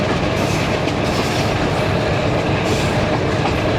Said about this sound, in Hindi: यार ये होता है ट्रेन का असल मज़ा।